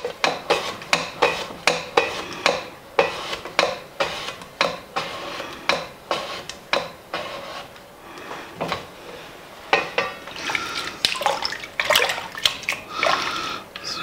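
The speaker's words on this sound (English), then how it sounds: "slice these right on down into my water here" Repeated quick strokes slicing potatoes into water, each followed by a splash and clatter, falling into an uneven rhythm up close.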